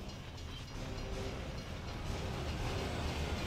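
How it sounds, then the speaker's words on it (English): A train passing in the video game Gears of War 3, heard as a continuous dense rumbling roar with rail clatter, steady and fairly loud throughout, with no talking. "it's a bloody train coming the other way"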